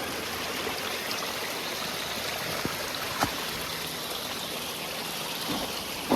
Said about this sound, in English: Oh, there's water running off this direction too.